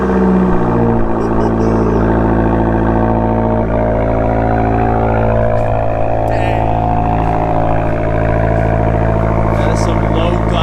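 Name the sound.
Fiat 500 Abarth engine cold start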